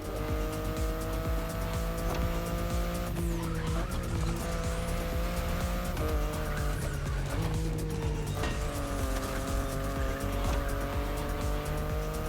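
BMW i8 driven in the racing video game The Crew: Motorfest, with a loud, steady engine note that rises and shifts through gear changes and squealing tires, heard alone.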